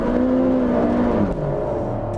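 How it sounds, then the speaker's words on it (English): A Mazda MX5 or Honda S2000 at a drag strip staging area, engine held at steady high revs in a loud, continuous droning burnout, pitch sagging slightly midway, close to the microphone with no talking. "Going to do a burnout to line up the tyres"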